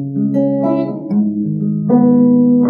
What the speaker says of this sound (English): Now, pattern number three is more or less like a finger picking technique